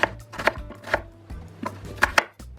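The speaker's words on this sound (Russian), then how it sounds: "чеснок и лук порежу средними кусочками" A knife chops garlic and onion into medium pieces on a board in sharp, irregular taps, several strikes in quick succession, close up with no talking.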